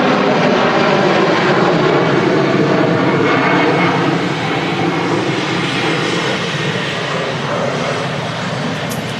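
Airliner landing at Manchester Airport with reverse thrust engaged, a loud, continuous jet engine roar filling the whole stretch and easing slightly toward the end.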